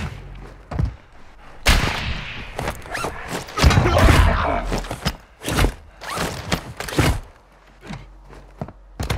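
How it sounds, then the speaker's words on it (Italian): Gunfire in the battle royale shooter Warzone 2.0: sharp, loud bursts and single shots in an irregular rhythm, some close and cracking, others shorter, mixed with footsteps and movement noise. "Mi sparano, guarda dove spari!"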